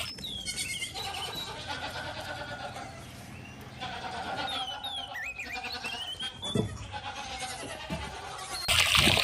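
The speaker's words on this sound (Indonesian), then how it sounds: "Kita menemukan kambing teman-teman." A goat bleats in several wavering, rising and falling cries over a busy background, fairly close and moderately loud.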